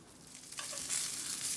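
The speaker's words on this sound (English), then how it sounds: "add my Brussels sprouts to a little bit of oil in the pan" Brussels sprouts land in hot oil in a pan and start to fry with a sudden, rising sizzle. The crackle then settles into a steady, bright hiss up close, with no talking.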